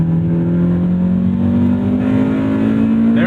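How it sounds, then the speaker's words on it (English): A 1998 Honda Civic Type R EK9 with a cable-throttled B16B engine revs steadily higher toward VTEC, its loud, close, rising engine tone climbing continuously without speech. "There's that VTEC again at 6K."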